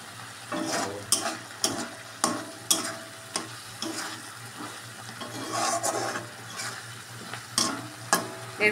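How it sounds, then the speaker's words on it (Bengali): Spice masala for a sand goby fish curry sizzles and fries in white oil in a pan, with repeated scraping stirs and spoon clinks at a steady rhythm, fairly quiet and close with no talk. "মশলাটা একটুখানি কষে কষে আসলে"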